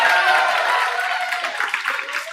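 Men in a classroom lecture audience clap together in a brief burst of applause, loud and close at first, then thinning into scattered claps.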